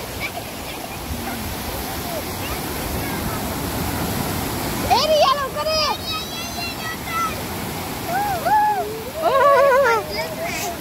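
Rushing water roars steadily throughout, loud and close, while voices call out and chatter over the torrent.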